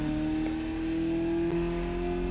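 A Ferrari 308 GTS in The Crew Motorfest racing game cruises along with a steady, smooth engine drone holding an even pitch, loud and close, with no talk over it.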